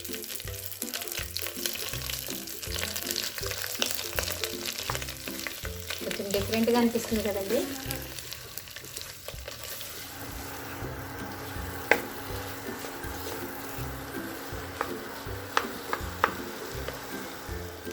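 Boiled dal being stirred and fried in a ghee tempering in a pan, giving a steady close sizzle with scraping stir strokes throughout, while a voice speaks over it.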